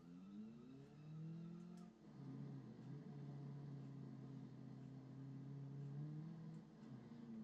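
A Ute pickup in BeamNG.drive drives on dirt, its engine holding a steady, faint tone with one dip and a re-rise as the revs shift, heard alone without talk.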